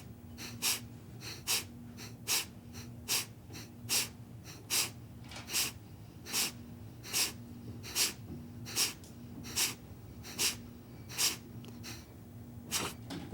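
Rhythmic yoga breathing: a steady series of about eighteen forceful, evenly spaced exhales through the nose, close and alone over a faint low hum.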